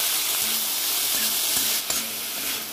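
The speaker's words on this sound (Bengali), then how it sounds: "এবার ভালো করে ভেজে নেব" Drumstick flowers fry in hot oil with green chilli, salt and turmeric, giving a steady, close sizzle with brief spitting pops.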